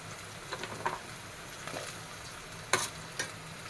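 Cut lemon pieces dropped into hot oil with ginger, garlic and crushed bird's eye chilli for a lemon curry, a quiet frying sizzle with a few bursts of crackle and stirring scrapes, close and without voices.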